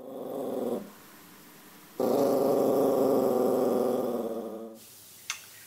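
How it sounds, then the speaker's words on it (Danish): Dog growling after vet treatment for a foreign object stuck in its oesophagus: two long, close, rumbling growls, a short one then a longer sustained one, separated by a quiet gap. "rigtig hurtigt frisk igen og klar til at knurre af os"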